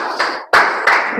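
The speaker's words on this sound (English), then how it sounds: "Clap for him" A classroom of students claps for a classmate who answered correctly, two quick bursts of fairly loud, close clapping separated by a brief pause.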